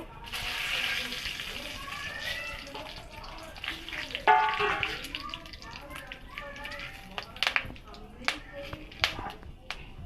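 Whole garam masala spices crackle and sizzle in hot oil left from frying onions for a biryani, with sharp pops and spatters, stirring clinks and a continuous frying hiss, heard close while a person talks over it.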